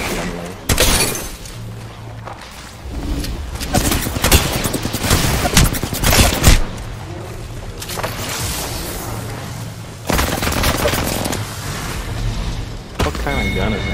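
Video game gunfire in dense, continuous bursts and rattling fusillades, loud and close, with crashing impacts mixed in and a player talking over parts of it.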